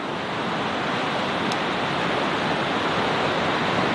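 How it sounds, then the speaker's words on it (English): Continuous broadband wash of ocean waves near a beach home, a steady hissing roar with no distinct breaks, loud and even from start to finish. "enjoy the sounds of the ocean"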